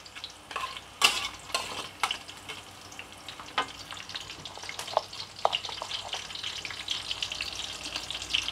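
Shallot frying in a pan, a close, soft crackling sizzle with scattered pops and a few light clinks of utensils, heard alone without any talking.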